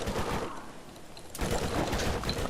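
Rapid bursts of gunfire from the co-op shooter Borderlands, shotgun and automatic weapons firing in dense, continuous volleys that swell louder after a brief lull, with no talk over them.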